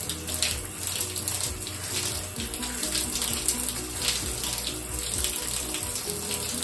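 Running tap water pours steadily while a child's hair is rinsed with conditioner in, a close, continuous hiss and splash with slight shifts as the stream hits hair and hands, and no voices.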